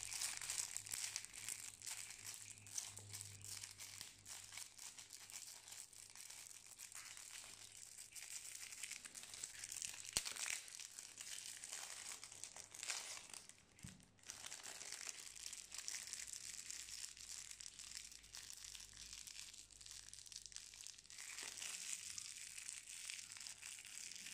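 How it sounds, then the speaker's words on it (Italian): Continuous crisp crinkling of a plastic Yu-Gi-Oh trading card wrapper, close to the microphone, with steady rustling and crackling throughout. "Con questa carta che fa un buon rumore di crinkle molto interessante."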